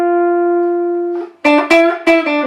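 Lead electric guitar: a long held twangy note fades, then a quick run of picked notes with triplet phrasing rings out close and loud, with no talking.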